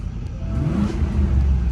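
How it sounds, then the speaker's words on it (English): A Range Rover engine revs during a rev test, a brief close rumbling rise in engine note with a steady low-frequency roar. "fire it back up, do the rev test"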